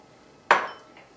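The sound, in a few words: stirring salt and pepper into chicken noodle soup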